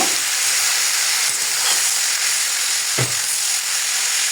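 Cabbage and shrimp fry in a pan with a steady, loud broadband sizzle, a few soft stirring scrapes breaking through the continuous hiss.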